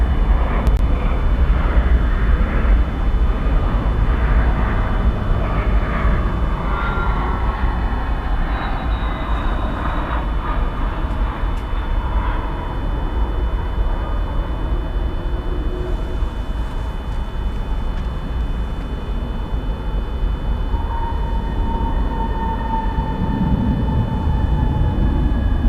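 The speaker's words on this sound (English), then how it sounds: "this is one of those things we always enjoy seeing, the MD-11 taking off" An MD-11 airliner taking off at DFW Airport, a loud continuous jet engine roar with whining tones that shift in pitch as the aircraft accelerates and climbs away.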